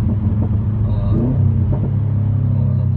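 A car's exhaust crackles while it drives, with a steady low engine rumble close by and a few brief pops breaking through.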